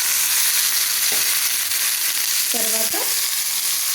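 Curry leaves crackle and sizzle in hot tempering oil with a pinch of turmeric, a steady loud frying hiss throughout while a voice speaks briefly over it.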